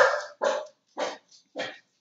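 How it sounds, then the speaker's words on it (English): Dogs set off by a car door slammed outside bark in four loud, close bursts spaced about half a second apart, with a faint yip between the last two. "somebody slammed the car door outside and my dogs go crazy"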